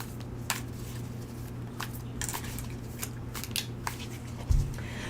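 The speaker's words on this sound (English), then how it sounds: "I'll just shuffle them again. Shuffle again and cut." Tarot cards are shuffled and cut, giving a series of sharp, brisk riffling snaps at irregular intervals over a steady low room hum, with a soft thump near the end.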